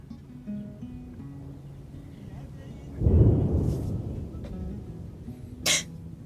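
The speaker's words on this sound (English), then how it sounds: "There's a storm, but I think it's moving past us." Thunder from a desert storm rumbles low and heavy for about a second, close and fairly loud, then fades into a soft roll, with quiet talk before it and a sharp noise near the end.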